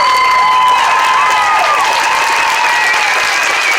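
A large crowd at a march for Breonna Taylor cheers and applauds loudly and continuously, with a few whistles riding over the steady roar.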